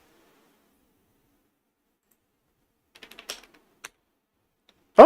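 Typing shell commands on a computer keyboard at a multi-window graphics terminal running BSD, a short burst of quick clicking keystrokes, then one isolated tap and a final sharper hit, close and otherwise silent.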